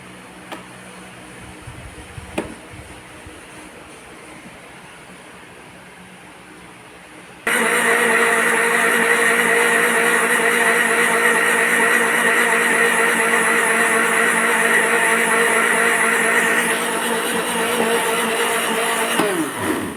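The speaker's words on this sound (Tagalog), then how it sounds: "At ito ay i-blend natin" Loud, steady blender whir as dragon fruit blends with a cup of fresh milk, kicking in suddenly after a quiet lead-in and running evenly to the end.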